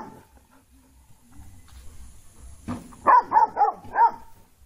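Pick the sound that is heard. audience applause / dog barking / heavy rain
dog barking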